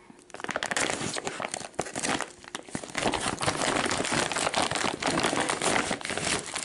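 MRE ration pouch being cut open, with dense close crinkling and crackling of the plastic packaging that rises and falls in loud bursts throughout.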